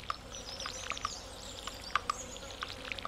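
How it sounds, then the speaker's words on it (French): Birdsong from the Stardew Valley farming game: scattered short, bright chirps and tweets at a moderate, fairly quiet level over soft ambient game background, with no talking. "Oh, le joli chant des oiseaux."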